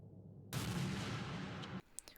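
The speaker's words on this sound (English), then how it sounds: "We see a flash and the sound of a gunshot pierces the air" A sudden gunshot blast in the video game Mouthwashing, fired inside an escape pod, breaks a silence and swells into a loud, sustained roar of hissing vapour lasting over a second before cutting off into faint scattered noises.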